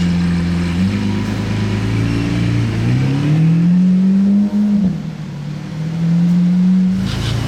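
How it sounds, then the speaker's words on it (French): A Lamborghini Aventador S roars past in a supercar convoy through Monaco, its engine loud and close, revving up in rising sweeps, dipping briefly and then climbing again before fading off. "Aventador S. Elle nous fait plus de bruit que la SVJ là"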